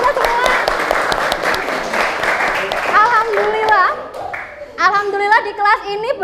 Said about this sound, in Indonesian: kasih tepuk tangan buat kita semua